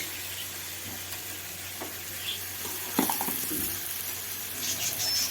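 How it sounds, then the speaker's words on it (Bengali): Hot water poured into frying masala and potatoes in oil for a tengra fish curry, a steady hiss and sizzle that flares with a splashy burst partway through, close and fairly loud, no talking. "তো আমি দিয়ে দিচ্ছি গরম জল"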